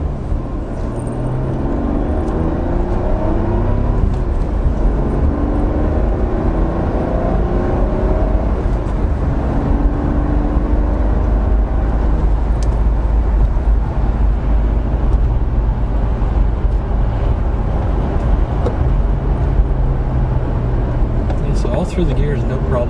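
A 1990s Nissan Skyline R33 GTS-4 four-wheel-drive car accelerates from first through the gears, its engine note rising in steps with shifts, loud and close from inside the cabin, with a person talking over it.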